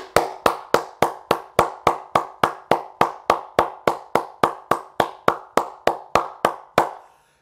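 A single pair of hands claps slowly for Miami Dolphins kicker Jason Sanders, about twenty sharp, evenly spaced claps, close and loud, with no other sound between them.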